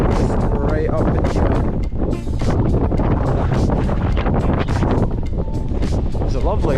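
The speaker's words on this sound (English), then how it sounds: "You'll hear the wind picked up." Strong, gusty wind blowing across Mount Keen, a Scottish mountain, roaring steadily into the microphone with buffeting surges, while a person talks over it.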